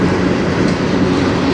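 A CN freight train on the Strathroy Subdivision rumbles past close by, a loud, steady roar of wheels and rail noise with no pauses, heard alone.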